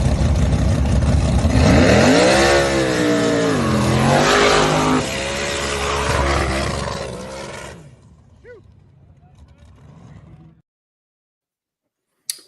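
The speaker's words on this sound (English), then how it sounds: "So right lane and left lane both did burnouts." Big-block twin-turbo drag race cars roar through burnouts, a loud sustained engine howl with rising and falling revs for several seconds before cutting off, leaving a faint fading rumble and near silence.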